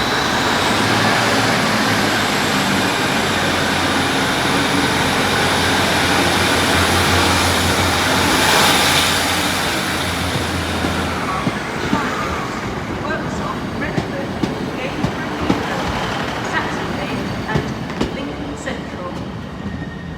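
Northern diesel unit 150002 moves through Sheffield station, a rumbling engine drone and rail noise fading after a while into clattering platform ambience with scattered clicks and knocks.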